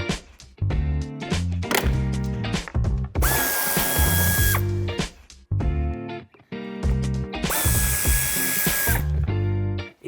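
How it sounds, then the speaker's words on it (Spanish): Power drill or impact driver running in repeated loud bursts, with ratcheting clicks, while screws are removed from the underside of a 2014–2021 BMW 2 Series Active Tourer (F45) during a towbar installation; no talking. "Y ya en la parte inferior quitaremos los 8 tornillos que tenemos con cabeza de 8."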